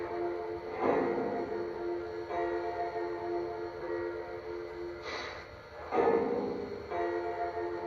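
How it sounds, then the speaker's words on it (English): The standard bell of a Lionel Legacy F-19 4-6-2 Pacific model locomotive clangs repeatedly at uneven intervals over a steady humming tone, moderately loud and close. "Here's our standard bell."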